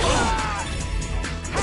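A Tiger Blitz attack skill in the .hack//G.U. Vol. 2 video game lands as a loud, dense crashing smash with a hard whack, brief and close, filling the whole moment.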